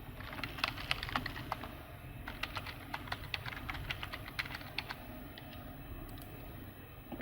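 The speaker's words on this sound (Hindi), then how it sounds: "वो मैं यहाँ पर आपको टाइप करके दिखा देता हूँ।" Fingers tapping a computer keyboard, entering a username and password while setting up a TP-Link router, in quick irregular bursts of faint clicks over a steady low room hum, with no talking.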